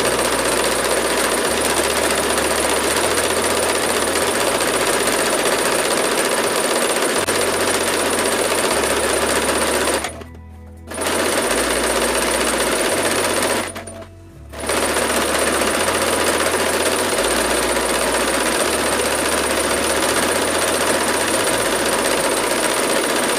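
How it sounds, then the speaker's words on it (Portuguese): A sewing machine stitches around the edge of a fabric placemat, running with a steady loud mechanical whir and rhythmic needle thumping that stops briefly twice before continuing. "você faz um pontinho e você vai fazer a costura em toda a volta dele"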